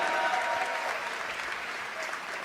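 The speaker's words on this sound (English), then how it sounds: "Applaudissements une dernière fois, s'il vous plaît, pour cette équipe des FaZe" An audience applauds the FaZe esports team on the podium at a Call of Duty event, a dense steady clapping that tapers slightly toward the end.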